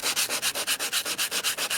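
320-grit sandpaper rubs back and forth on a car bumper crack repair in a fast, even rhythm, about fourteen close, loud strokes with no pauses.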